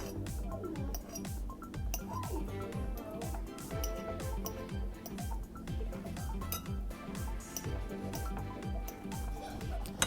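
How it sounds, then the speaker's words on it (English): Bananas being mashed in a bowl for banana crumb muffins, with a repeated rhythmic clinking and tapping of a utensil against the bowl and soft squishing, moderately close. "I'm just going to keep breaking down the bananas in here"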